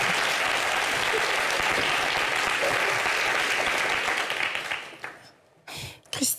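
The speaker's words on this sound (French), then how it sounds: "applaudissez-vous" A studio audience at a French-language talk show breaks into sustained, dense applause that holds loud for several seconds, then tapers off into scattered claps and quiet.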